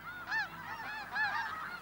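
Snow geese in an Arctic tundra colony honk repeatedly, several calls overlapping in loud bursts against a steady chorus of more distant birds.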